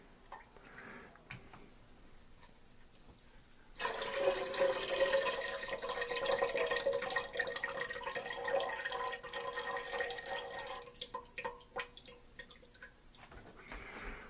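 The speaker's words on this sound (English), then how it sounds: "put them in a separate bowl, and then pour in the liquid" Pineapple and orange juice for a melomel is poured into a bowl in a steady, splashing stream that runs for about nine seconds after a quiet start, then stops.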